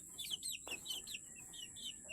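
Hens and young chicks in a backyard flock give soft, repeated high chirps and peeps, with a brief cluck in between, faint and close.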